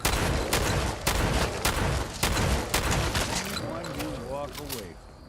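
Repeated shotgun blasts from Fallout 4's Far Harbor add-on, loud and close in an irregular rhythm, with a voice talking over the later shots.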